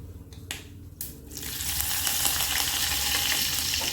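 Mustard seeds are dropped into hot coconut oil in a pan. A few light taps and clicks come first, then a loud, close, crackling sizzle that swells and keeps going.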